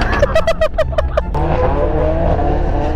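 Cars drive past on a nearby road, a loud continuous rush of engine and tyre noise with a rising whoosh, preceded by a few quick chirping sounds.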